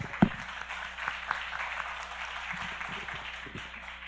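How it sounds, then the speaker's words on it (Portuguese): Applause at a Portuguese-language church doctrine service, a congregation clapping steadily for several seconds, the sound fairly close and full with no voices over it. "Aplaudamos a Ele."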